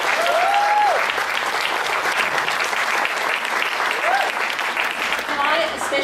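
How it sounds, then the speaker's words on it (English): An audience bursts into sustained, dense applause, loud and close, with a brief voice audible over the clapping near the start. "can everyone please give Chris another round of applause"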